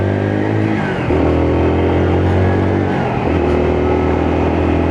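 A Lexmoto Assault motorbike with a five-speed gearbox revs steadily, its engine note dropping and climbing again at two gear changes. It stays loud and close throughout, with no talk.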